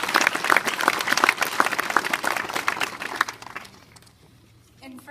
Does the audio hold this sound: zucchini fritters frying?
no